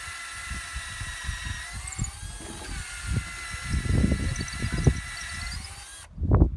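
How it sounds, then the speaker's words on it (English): A cordless drill whirs steadily while boring a hole into a log on a farm, with a sustained motor whine over scraping, crunching wood and a few bumps, then stops abruptly near the end. "This is a modern day drill. This is a cordless one."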